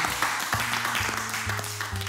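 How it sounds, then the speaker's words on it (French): An audience claps steadily for a contestant on a reality TV show. The applause is brief and fairly close, with a few scattered shouts. "Une bonne main d'applaudissement pour Charles!"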